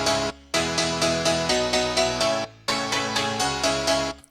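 Dry piano chords built from three stacked layers with no effects, struck in a rhythmic pattern of sustained blocks with brief gaps, loud and close, with no talking.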